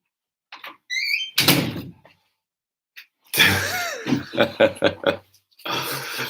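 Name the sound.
door closing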